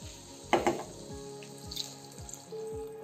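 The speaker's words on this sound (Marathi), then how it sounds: "त्यामध्ये ऍड करूयात पाणी." Water poured into a hot pot of vegetable pulao, giving a short splashing rush with sizzling from the pan, followed by quieter bubbling and a steady kitchen hum.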